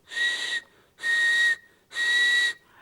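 Three sustained shrill whistle blasts, each about half a second long, evenly spaced with short gaps, loud and close with no other sound around them.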